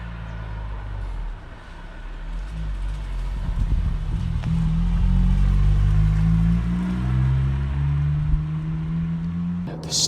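A 2005 Honda Civic Sport EP2 exhaust note under acceleration, a steady, rising engine drone with shifting harmonics, heard from inside or near the car, fairly loud and without speech.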